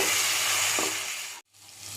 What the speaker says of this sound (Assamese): মছলাখিনি কিছু সময় ভাজি লোৱাৰ পাছত